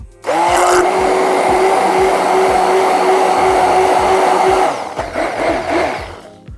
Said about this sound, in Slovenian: Sedaj pa dajmo tole kar zblendati s paličnim mešalnikom v gladek pire.